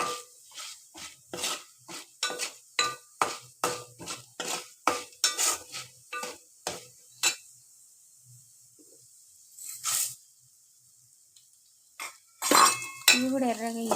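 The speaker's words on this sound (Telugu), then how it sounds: "ఇవి లైట్గా వేగాక ఇవి కూడా వేసి వేయించుకోవాలి" Coriander, cumin and fenugreek seeds dry-roasting in a pan are stirred with a utensil that clinks and scrapes against the metal in a quick, regular rhythm, then it pauses briefly before a louder clatter of stirring resumes.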